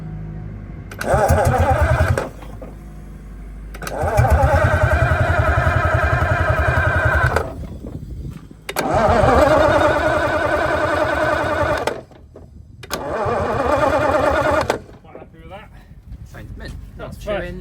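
An abandoned APC armoured vehicle's engine is being cranked, with several long bursts of loud, close, rhythmic churning separated by pauses. Voices talk between the attempts.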